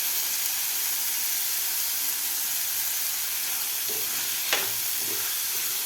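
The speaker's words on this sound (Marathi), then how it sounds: "डाळसुद्धा आपल्या खालच्या मसाल्यामध्ये व्यवस्थित आपल्याला परतून घ्यायची आहे" Dal being sautéed in masala for a Ganpati prasad dish fills the pan with a steady, close sizzle and hiss, broken near the end by a single sharp clink of a stirring spoon.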